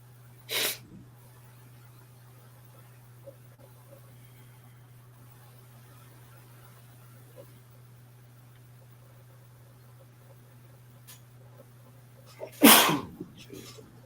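Two sharp, sudden sneezes, one early and a louder one near the end, break an otherwise quiet room with a faint steady low hum in between.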